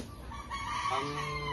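Chickens on a broiler poultry farm cluck and call in a continuous, fairly quiet background din, with a rooster-like crow rising near the middle, no talk.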